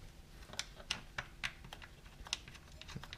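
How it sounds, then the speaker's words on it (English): Plastic engine cover on a Mazda Protege knocked into place: a string of light, sharp clicks and taps spaced irregularly over a quiet background, close up. "Just put the plastic cover on"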